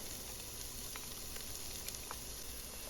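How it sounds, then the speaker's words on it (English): Chopped onion sizzling in hot canola oil in a pot, a steady broadband frying hiss throughout with a few faint crackles, close and continuous with no voices. "hear that sizzle"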